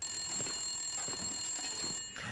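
An in-game telephone rings inside a building in the survival game The Long Dark, a repeated electronic trill in bursts that sounds close and non-directional, fairly quiet, with no talking.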